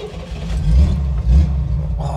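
A Chevrolet Corvair Monza's air-cooled flat-six engine fires up and revs, two loud, close surges of engine roar in quick succession.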